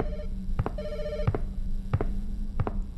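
A telephone rings repeatedly inside a video game set at a gas station, four evenly spaced electronic ring bursts over a steady low hum, fairly close and loud with no talk over it.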